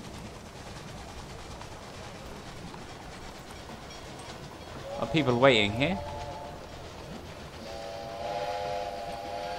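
Train running in the video game Railway Empire, a steady low rumble of rolling wagons with a whistle blast midway and a later sustained tonal horn, while a person speaks briefly over it.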